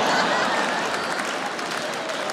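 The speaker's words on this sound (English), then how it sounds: "Applause break." An audience at a comedy show applauding, a dense, loud, steady wash of clapping with faint chuckles mixed in.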